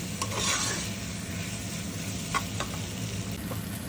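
Potatoes sautéing in oil for a fish curry give a steady close sizzle with intermittent stirring scrapes, no talk.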